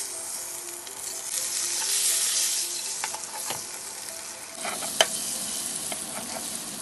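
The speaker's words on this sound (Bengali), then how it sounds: "আর এইদিকে ডিমগুলো একটু ভেজে নেব।" Peeled boiled eggs fry in a pan with a steady sizzle and hiss, close by, while a few spoon scrapes and one sharp tap break through the crackling.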